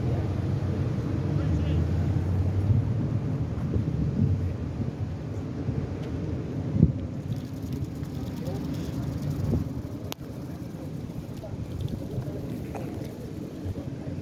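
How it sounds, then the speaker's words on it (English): Low, steady wind rumbles and buffets against the microphone throughout outdoors at a police-investigated crash scene on Seaver Street, Boston, with faint gusts and distant noise mixed into the blustery background. "A little windy out here too."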